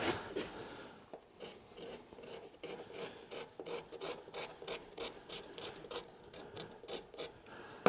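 A hooked carving tool rasps steadily across a carved spiral seashell, close up, in quick repeated scraping strokes with no voices.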